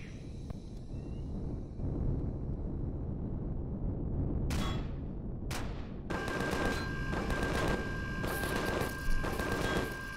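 Turret gunfire in Empyrion Galactic Survival Alpha 10, heard as a steady low rumble of distant firing, then several sharp bursts of shots and rapid repeated fire in the second half.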